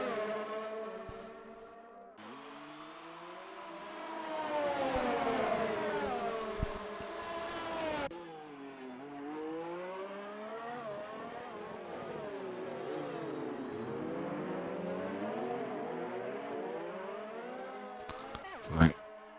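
Race car engines from a racing video game, including a McLaren Mercedes, whine and shift pitch loudly and continuously, rising and falling as cars pass, with a commentator talking over them.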